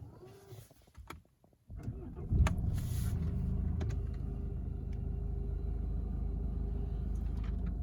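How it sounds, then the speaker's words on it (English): A 2013 Jaguar XF 2.2L diesel started by push button: a short crank, then the engine catches and settles into a steady low idle rumble heard from inside the car, with a brief voice before the start. "when I press that button the car starts"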